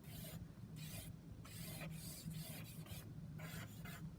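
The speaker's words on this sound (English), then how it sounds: "I'm coming in and rubbing out my rule of third lines to kind of help see my objects" Pencil lines being rubbed out by finger on drawing paper during a quick teacup sketch, a soft, close rasping friction in repeated short strokes, steady and quiet with no talking.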